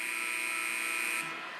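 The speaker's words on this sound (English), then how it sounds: "James doesn't talk during the buzzer" A sustained electronic arena buzzer drones at a steady pitch for over a second during a Lakers–Celtics basketball game review, then cuts off, moderately distant and alone.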